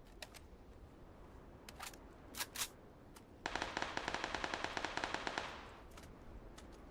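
Gunshots in the console shooter PUBG: a few scattered single shots, then a sustained rapid burst of automatic fire lasting about two seconds, followed by more isolated distant shots.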